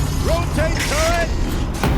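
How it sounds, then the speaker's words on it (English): A turret rotating in the video game Horizon Zero Dawn gives off creaking, whirring mechanical servo sweeps, several short rising whines over a low steady hum, close and fairly loud. "Rotate turret!"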